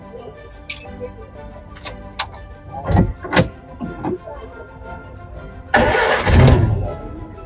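A vintage four-cylinder car with a hand gear lever at a Jaipur vintage car rally gives off sharp metallic clicks and clunks, then rough bursts of pull-start cranking, while people talk nearby.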